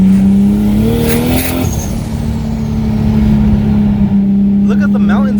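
An 800 whp 2JZ-swapped Nissan Cefiro accelerates on a Thai mountain road with a loud, rising engine tone that climbs and shifts. A steady droning note follows, and someone talks over it.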